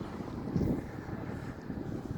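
Strong wind buffets the microphone outdoors in Iceland, a steady low rumbling roar with a louder gust near the start, continuous throughout and with no voices.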